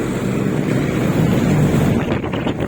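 Steady hot wind rushing and buffeting beside the Marikina River, a continuous low roar with gusty fluctuations, loud and close throughout.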